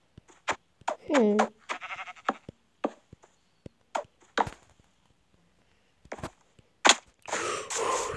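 Sheep bleat in a Minecraft-style video game, a couple of short wavering calls among clicky game sounds, chops and bursts, with a player talking intermittently.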